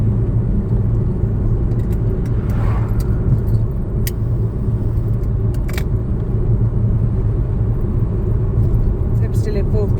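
A learner's car cruises in fourth gear at about 40 along a road, giving a steady close engine and road rumble throughout, with a few faint clicks and rattles from the cabin and no clear talk.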